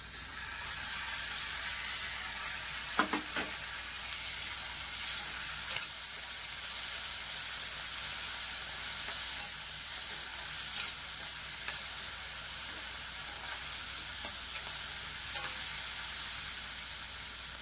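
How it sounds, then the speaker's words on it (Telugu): Chopped tomato and carrot sizzle steadily in a pan while cooking a curry, a faint continuous frying hiss broken by occasional soft clicks and scrapes of stirring, with no talking. "ఇందులోకి టమాటా, క్యారెట్ ఇవి కూడా కొద్దిగా మగ్గనిద్దాం."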